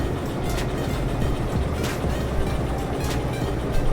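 A train locomotive in the video game Derail Valley rolls along rails with a continuous dense rumble and periodic clanks, loud and steady throughout.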